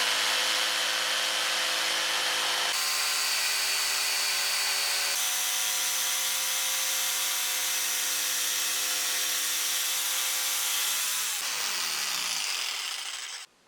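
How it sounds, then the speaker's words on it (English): A jigsaw cuts a wooden rod with its blade held by a guide strip. The steady, close, rasping buzz runs almost without a break, changes pitch slightly a few times, then cuts off at the end. "Here we see how the strip serves as a guide for the jigsaw blade at the beginning of the cut."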